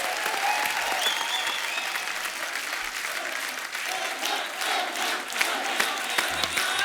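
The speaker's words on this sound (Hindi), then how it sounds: "जोरदार तालियां एक बार सलमान भाई के लिए" A studio audience at a Hindi comedy show, the Kapil Sharma Show, claps in sustained loud applause with some cheering, and a host's voice is heard faintly through it.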